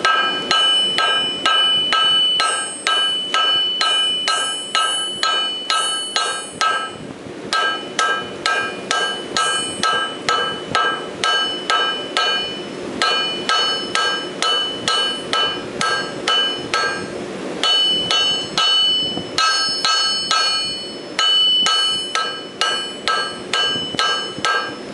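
A hammer forge-welds a wire blade with steady, rapid, ringing metal blows, close and loud, repeating in a regular rhythm with a few short pauses between runs.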